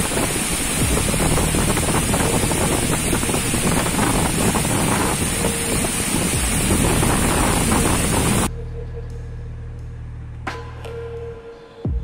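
Hurricane-force wind in Da Nang, Vietnam, during the strongest storm there in 20 years: a loud, continuous roaring gust buffeting the microphone for about eight seconds, then dropping abruptly to a quieter, steadier low rumble.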